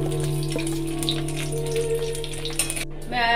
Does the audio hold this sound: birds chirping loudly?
no